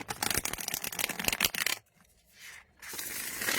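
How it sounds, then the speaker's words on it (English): Thick, cardboardy indie tarot cards riffle-shuffled by hand, a dense burst of rapid fluttering card clicks for nearly two seconds, then a brief quiet pause before softer handling and another rustling stretch. "From one Riffle Shuffle"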